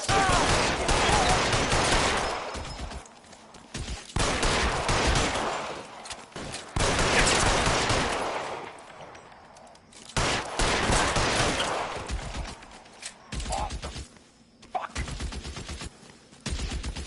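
A gunfight in L.A. Noire, with dense volleys of gunfire in repeated bursts separated by short lulls, fairly loud and close with a few isolated shots near the end.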